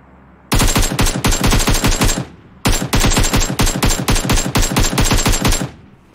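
Automatic gunfire in a video game during looting rattles out in two long, rapid bursts with a short pause between them, loud and close.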